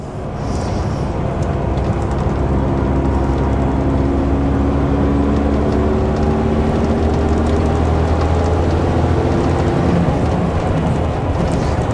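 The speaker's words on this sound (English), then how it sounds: "Get the revs up for that little incline there." Volvo B10M coach engine revving as the driver builds speed for a small incline, a loud, steady low drone with rising harmonic bands continuing throughout.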